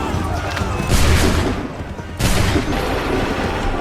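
A musket volley crackles in Assassin's Creed III, two loud bursts of massed gunfire roughly a second apart over a busy battlefield din with voices shouting commands.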